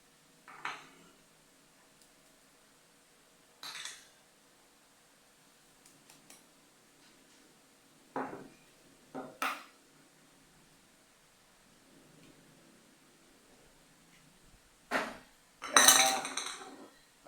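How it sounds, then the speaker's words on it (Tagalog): Beef patty ingredients with breadcrumbs are mixed by gloved hands in a bowl. Sparse, separate clinks and knocks of the bowl ring out at irregular intervals over a faint, quiet background hum. "Paghalo-haloin lang lahat guys."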